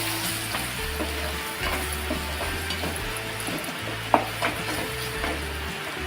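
Turmeric, garam masala and homemade spice mix are stirred and fried in a pan, giving a continuous sizzle with repeated scraping strokes and a sharp clack near the end, with no voices.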